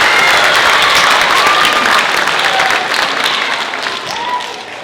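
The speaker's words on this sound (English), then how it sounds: "We can give him a round of applause." Loud, dense applause from an audience at a school event for a Spanish immersion program, sustained clapping that gradually thins and fades over about five seconds.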